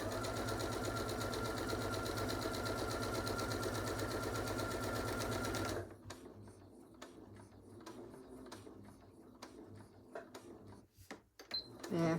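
A sewing machine runs fast and steady while stitching a small pin cushion, then stops and gives a few short, uneven backstitch bursts with clicks and pauses, with quiet speech alongside.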